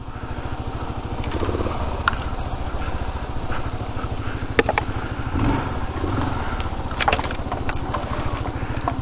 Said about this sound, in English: Tight single track in a KLR.